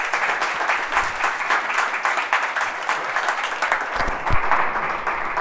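An audience applauds steadily and warmly to welcome an architect to the stage at an art museum lecture series, dense clapping sustained throughout without a break.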